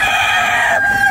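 A rooster crows once, loud and close, a bright strained call lasting about a second that breaks off near the end, with no talking over it.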